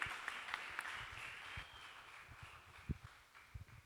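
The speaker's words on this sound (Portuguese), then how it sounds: "Você pode aplaudir os nossos personagens também?" Church congregation clapping for the performers at a Brazilian family service, a soft, somewhat distant patter of hands with a few sharper claps standing out, no speech over it.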